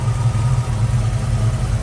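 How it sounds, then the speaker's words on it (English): The engine of a 1969 Chevrolet Camaro RS/SS convertible idles quietly and steadily up close, a smooth low rumble with no ticking, heard alone without any talking. "Engine is quiet. No valve ticking, no nothing"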